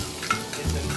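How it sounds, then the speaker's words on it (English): Ginger sizzling as it is stir-fried in a wok, a steady, close hiss of frying with faint stirring scrapes throughout. "Put the ginger in there first."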